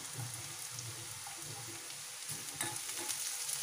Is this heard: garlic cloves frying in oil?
yes